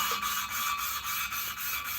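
Valves being lapped into a 3rd-generation Hemi cylinder head make a steady scraping, rubbing grind that pulses in a regular back-and-forth rhythm, close up and with no talking.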